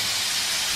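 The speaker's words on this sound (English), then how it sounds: "I'm going to flip this steak over now" A steak sizzles loudly in a hot pan, a brief, steady, close hiss as the meat is turned over.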